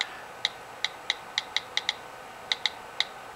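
Quick taps on an iPhone touchscreen keypad give off sharp, faint clicks, about a dozen in short uneven runs with small pauses, close and alone over quiet room noise.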